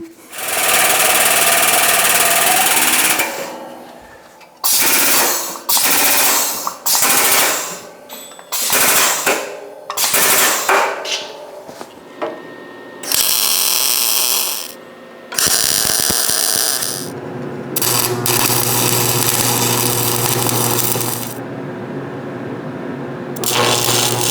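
Slag being knocked off a 7018 weld during a root ripper repair: loud, close, rapid mechanical hammering in bursts of a second or two, broken by short pauses, then a longer steady stretch of rattling near the end.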